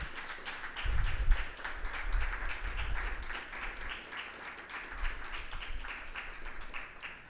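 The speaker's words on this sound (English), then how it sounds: "Give them a big round of applause" An audience at a university journalism prize ceremony in Belize applauds, a dense, moderately loud wash of clapping that carries on steadily with a few louder swells.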